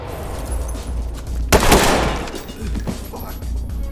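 A sharp flashbang blast in the tactical shooter game Ready or Not lands mid-clip, ringing out over a low background rumble, with a few faint gunfire-like pops around it.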